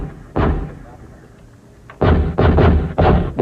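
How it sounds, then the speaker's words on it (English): A deep, punchy explosion-like burst, followed after a quiet gap by a rapid series of loud booming thumps, close and forceful. "Then I'll take a very short-lived explosion."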